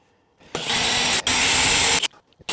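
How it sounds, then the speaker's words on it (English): A power drill whines loudly for about a second and a half, stops briefly, then runs again before cutting off, with short clicks after. "Drill a slightly bigger hole, pound in the next size up."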